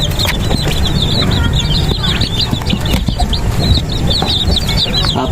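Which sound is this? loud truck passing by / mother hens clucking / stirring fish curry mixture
mother hens clucking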